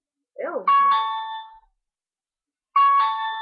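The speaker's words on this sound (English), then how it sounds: "why is the doorbell ringing outside?" A doorbell rings outside, sounding a clear two-tone chime near and loud, a brief voice just before it and a second chime after a pause.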